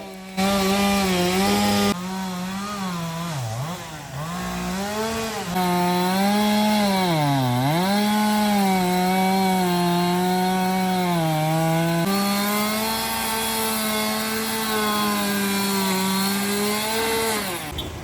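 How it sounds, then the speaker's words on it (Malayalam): A chainsaw whines loudly and continuously as a fire crew cuts up a fallen tree blocking a highway, its pitch dipping and rising as it bites into the wood, with brief changes in engine speed throughout. "ഫയർഫോഴ്സ് എത്തി മരം മുറിച്ചു മാറ്റി ഗതാഗതം പൂർവ്വസ്ഥിതിയിലാക്കുകയായിരുന്നു"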